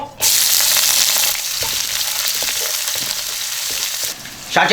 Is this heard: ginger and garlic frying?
yes